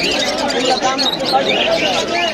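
A crowd of budgerigars chirps and twitters busily in cages at a bird market in Gausiya, Narayanganj, the dense chatter running continuously under a voice.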